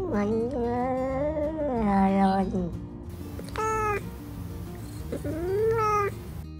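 Cry of Incineroar, the striped cat Pokemon from Pokemon Scarlet and Violet, a series of loud, close, drawn-out meowing yowls with rising and falling pitch, separated by short pauses.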